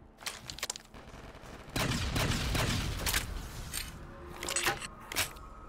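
Rapid bursts of gunfire and explosions from a Black Ops 3 custom zombies map set in a coal mine, loud and dense with fast volleys, booms and a sustained roar of firing through the middle.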